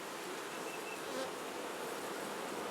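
Honey bees buzz at a hive in a steady, dense drone that stays even and fairly close throughout, with no voices.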